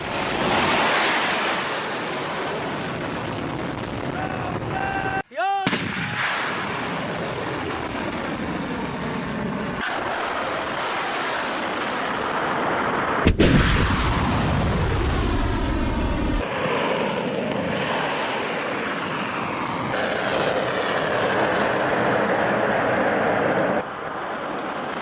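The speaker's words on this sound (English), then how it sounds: "Iran launching the next generation Fateh 2 hypersonic missile." A Fateh 2 hypersonic missile launch: a loud, sustained roaring rush of rocket exhaust that shifts and swells over about twenty-five seconds, with one brief sharp break in the noise.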